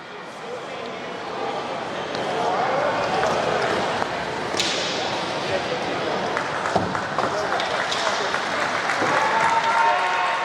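A crowd at a high school wheelchair basketball championship game claps and cheers loudly and continuously in an indoor gym, the applause swelling and holding while an announcer talks over it.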